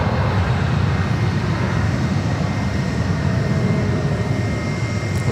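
A Jetstar airliner rolls along the runway at Sydney Airport, a loud, steady broadband engine roar that stays constant throughout with no voices.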